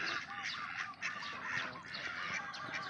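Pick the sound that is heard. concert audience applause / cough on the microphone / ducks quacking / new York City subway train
ducks quacking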